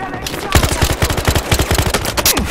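Rapid automatic gunfire in the video game Battlefield Hardline, a loud close burst of evenly spaced shots rattling for about two seconds.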